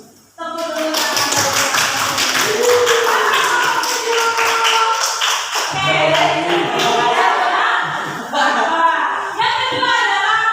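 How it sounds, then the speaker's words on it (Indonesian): An audience of students in a classroom session claps hands together, a steady rapid patter of many hands lasting several seconds, loud and close, with voices mixed in. "Tepuk dulu tangan."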